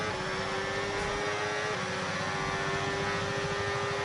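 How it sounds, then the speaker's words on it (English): Formula 1 car engine in the F1 26 racing game, a steady sustained drone with a strained, humming tone, loud and continuous throughout with no talk. "the engine growling gets even louder"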